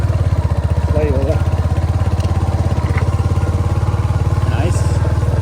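A motorcycle engine thrums steadily at close range while riding a track beside a river, with a rapid even pulsing beat and a voice talking over it.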